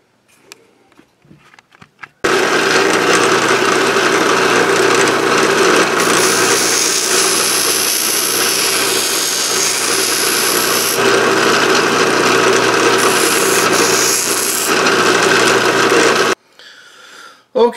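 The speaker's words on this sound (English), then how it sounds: "I'll go deburr that on the grinder real quick." Bench grinder deburring the edges of a handmade metal fishing spoon lure, a loud steady whine with shifting pitch as the metal is pressed on for about fourteen seconds, starting and stopping abruptly, with brief quiet handling at either end.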